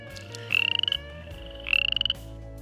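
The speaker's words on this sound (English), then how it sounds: "common are frogs and toads, abundant in marshes in numerous species" Frogs and toads in a marsh give two loud, rapid trilling croak bursts about a second apart, each a quick pulsing series, over a softer chorus of background calls.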